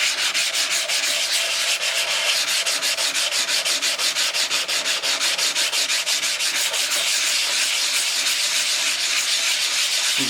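Steady, continuous scraping and rubbing of a rock being polished by hand, a fast rhythmic back-and-forth grind, close and loud throughout with no talking.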